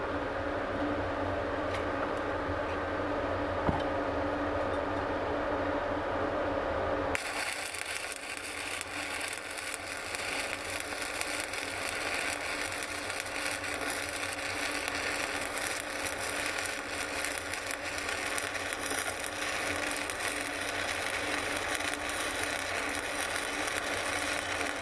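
Vertical stick welding on a backing bar with SMAW electrodes, a steady crackling hiss. It begins fairly quietly and turns broad and continuous after a few seconds, holding close and even to the end, with no voices.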